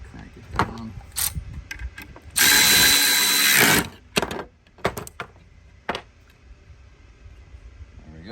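A bolt is cranked down with a ratchet while a horn is fitted to a Sprinter van, making sparse clicks and knocks around a single longer whirring run of the tool.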